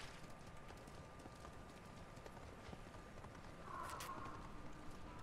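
Horse hooves clip-clop faintly and steadily under ambient game sound as a rider travels in Ghost of Tsushima, with a brief soft whoosh near the end.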